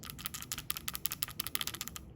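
A small hard ball rattles quickly inside a plastic PCV valve from a 3.6L Pentastar V6 as it is shaken, giving dense, rhythmic clicking close by.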